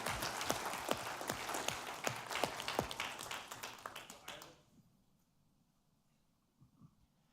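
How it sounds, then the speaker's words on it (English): Applause for a volunteer of the quarter at an awards ceremony: a round of scattered, fairly close hand claps that fades out after about five seconds, leaving a quiet room. "Everybody give him another round of applause"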